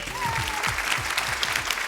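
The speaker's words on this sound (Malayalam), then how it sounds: "എല്ലാവരും ക്ലാപ്പ് ചെയ്യും." A studio audience at a Flowers TV comedy show claps together on cue, a dense, steady burst of applause close by, with faint voices and a thin tone running underneath.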